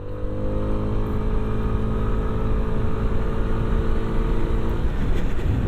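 Hero Xoom 160 scooter engine under throttle, a steady loud droning rev held close up for several seconds with no one talking.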